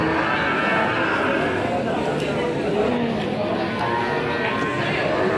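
Beef cattle moo amid a loud, busy livestock market in Yogyakarta, with constant crowd chatter and noise throughout.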